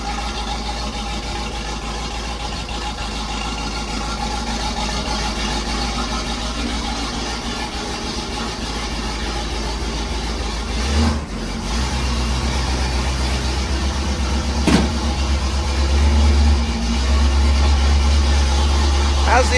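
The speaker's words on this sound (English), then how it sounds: "I let it warm up for a minute and it'll come off the fast idle." A muscle car engine warming up at fast idle, a steady low rumble running throughout with a brief dip and slight rev changes near the end, close and continuous while people talk nearby.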